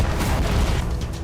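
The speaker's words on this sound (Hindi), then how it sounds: "न्यूक्लियर बम जब धरती पर गिरता है तो धमाके के साथ धुएं का गुबार उठता है" A nuclear bomb explosion rolls out as a loud, sustained boom, a heavy, rumbling roar that stays dense and powerful throughout.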